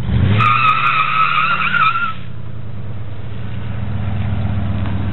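A car doing a smoky burnout. A loud, sustained tire squeal with revving engine tone runs for about two seconds, then breaks off into a lower, steady engine drone.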